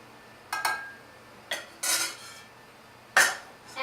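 Coconut oil being creamed in a mixing bowl: a few separate scrapes and clinks of a utensil against the bowl, fairly close and clear, with quiet pauses in between and no talking.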